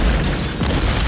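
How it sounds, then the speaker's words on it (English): A bomb blast in the 1978 film Superman makes a loud, deep boom with a rumbling burst, heard alone for about a second. "Oh, that was such a good explosion."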